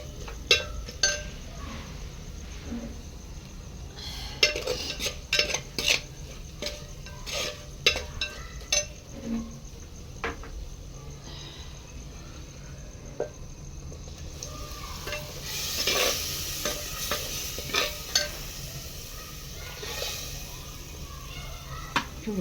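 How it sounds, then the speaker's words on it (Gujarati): Dal being tempered in a pot on a rustic clay village stove, with spoon stirring, sizzling oil and occasional metallic clinks of utensils against the vessel, close and continuous throughout. "સહેજ ગરમ થઈ જાય એટલે આપણે એની અંદર દાળને વઘાર કરી લઈએ"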